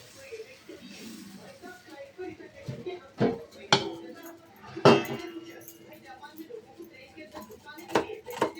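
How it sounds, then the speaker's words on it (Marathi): A knife cutting an onion lengthwise on a board in a home kitchen, giving several sharp separate knocks and clinks spread across the clip, with someone talking quietly between and under the cuts. "असं लांब का कांदा चिरायचा."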